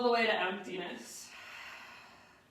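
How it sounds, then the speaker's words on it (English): A deep, breathy exhale during a breathing exercise pushes air out strongly, then trails off into a soft, fading rush of air, close and alone. "big, expansive inhales that move into upper back, mid back, low back. And then strong exhales all the way to emptiness"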